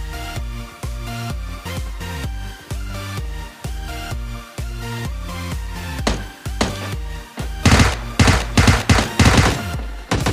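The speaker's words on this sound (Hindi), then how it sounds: "चल गई गोली चल गई" Rapid bursts of video game gunfire, loud and close, with repeated sharp shots that grow denser and more intense toward the end.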